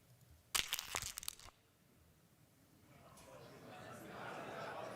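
Crunching of an energy drink can captured as a sound design source recording: a loud burst of crinkling metal crunches lasting about a second, then quiet, then a rising hiss of background noise.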